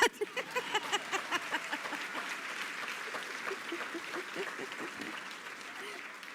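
A graduation audience breaks into applause that starts with a few distinct claps and swells into sustained, even clapping throughout a large room.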